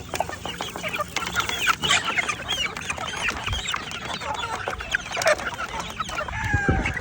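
Small chicks and chickens crowd in at feeding time, clucking and cheeping densely and continuously, loud and close, with scattered higher peeps over a busy background.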